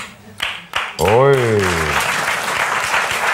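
Studio audience applause on a TV cooking show, breaking out right after an egg is separated: a steady wash of clapping that swells in and holds, with a voice exclaiming briefly over its start.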